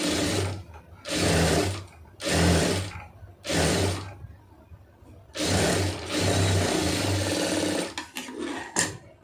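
A sewing machine stitches a folded fabric hem in bursts, each run of rapid mechanical chatter lasting about a second, with short pauses between and a longer continuous run near the end, close and clear with no talk.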